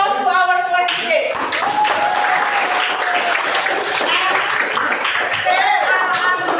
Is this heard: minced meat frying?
no